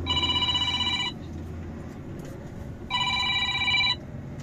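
Telephone ringing with an incoming call: two loud electronic ring bursts about a second long each, separated by a pause, over a steady low engine rumble.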